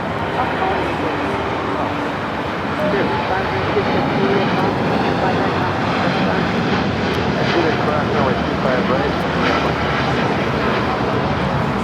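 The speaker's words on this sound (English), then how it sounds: "we have an American 777 is our next arrival on 25 left" An American Airlines Boeing 777 arriving at LAX makes a loud, continuous jet engine roar that rumbles broadly and holds steady throughout, with voices talking underneath.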